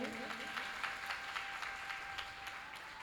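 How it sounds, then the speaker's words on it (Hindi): Steady applause from an audience at a Shrimad Bhagwat Katha in Nangli Sahib, Meerut, a dense wash of clapping that holds evenly for a few seconds. "एक बार तालियों से स्वागत करेंगे"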